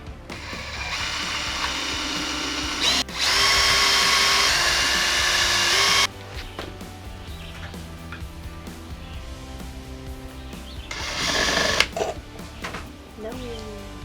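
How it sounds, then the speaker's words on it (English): A power drill drives screws to fasten a board to a car trunk, with two sustained whirring bursts and later shorter buzzes, heard near and loud amid talking and clatter. "I'm gonna drill 3 screws to attach my board to the trunk."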